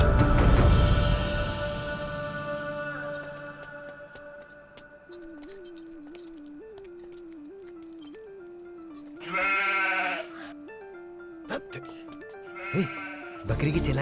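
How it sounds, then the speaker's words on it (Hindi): Goat bleats in a rural outdoor scene from a Hindi-dubbed film, starting amid a loud burst of other noise, then a long wavering bleat at moderate distance over background music, with a few shorter calls later. "बकरी की चिल्लाने की आवाज आ रही है, लगता है वो इधर ही है।"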